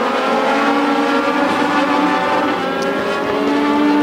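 Race cars at a feature race come around the track together, a loud steady roar of several engines holding for the whole span with no break.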